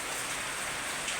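Steady, dense rain falls during a typhoon, a continuous even hiss of drops on surfaces close by with no voices, holding constant throughout.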